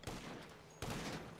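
Gunfire rattles in GTA 5 Online: two quick bursts of rapid shots, the second starting about halfway through. They sound fairly faint and distant, with no one talking.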